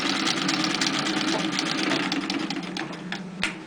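An antique Singer treadle sewing machine stitches through a paper towel with a rapid, steady mechanical clatter close by, easing slightly toward the end with a sharp click near the finish.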